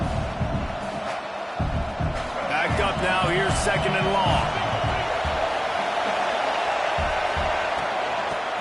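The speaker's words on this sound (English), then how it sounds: "how nice is it to have the home crowd going absolutely bananas?" The LSU home crowd at a football game roars in a loud, continuous din behind a commentator who talks over it.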